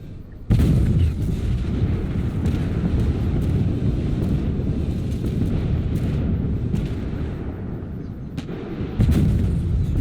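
Tank cannon fire in the Armored Warfare game, with a Griffin 120mm gun: a loud sustained roar of booming shots and rumble, sharp blasts near the start and end, with no talk.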